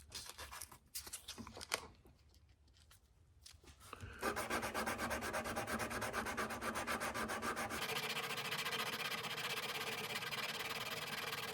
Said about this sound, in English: we're going to start just sanding progressively